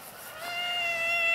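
A domestic cat lets out a single drawn-out meow, close and clear, rising slightly in loudness as it goes.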